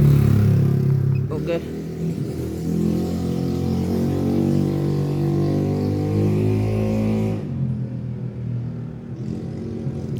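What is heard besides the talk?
Yamaha NMAX scooter engine starting and idling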